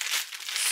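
A plastic bag holding underwear from an unboxing is opened with a brief, close burst of crisp crinkling and tearing, with no voices.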